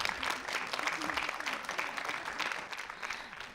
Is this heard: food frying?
no